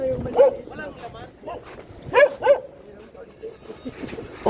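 Dog giving several short yips and barks in a Philippine street setting around a jeep terminal, close and sharp in small bursts, mixed with people chatting nearby.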